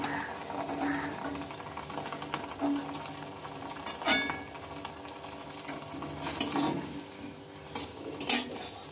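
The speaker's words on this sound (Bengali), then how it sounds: "বেশিক্ষণ লাগে না এগুলো ভাজতে, ভীষণ সহজে কিন্তু ভাজা হয়ে যায়" Snacks fry in hot oil in a pan, a soft continuous sizzle broken by several sharp clinks and scrapes of a metal utensil against the cookware, close by and with no talking.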